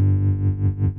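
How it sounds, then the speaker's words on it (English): Synthesized wobble bass from a free Computer Music plugin suite, a thick distorted low tone whose filter pulses in a slow rhythmic wobble, loud and isolated for about a second. "So you can now hear that the wobble bass is now very much in play"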